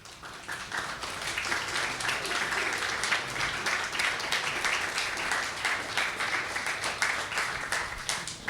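An interview audience breaks into applause for Prime Minister Justin Trudeau, many hands clapping in a steady, even roar that swells early and holds for several seconds.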